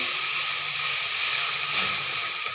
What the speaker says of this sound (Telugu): ఇవన్నీ వేసి బాగా వేయించుకోవాలి ఈ టమాటాలకి ఉల్లిపాయకి